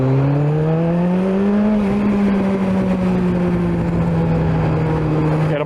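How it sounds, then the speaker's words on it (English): A warmed-up Kawasaki ZZR 1400 motorcycle engine revs steadily: a loud, close drone climbing in pitch and then holding high, with no distinct backfire pops standing out. "You can start to hear it backfire a lot more."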